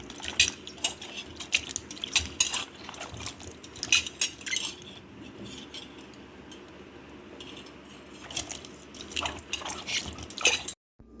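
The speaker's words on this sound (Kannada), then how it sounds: "ನಂತರ ಈ ರೀತಿ ಚೆನ್ನಾಗಿ ಕ್ಲೀನಾಗಿ ತೊಳ್ಕೊಬೇಕು." Bitter gourd being washed by hand in salted water, quiet splashes, drips and occasional clinks of a bowl, irregular and close, with no talk.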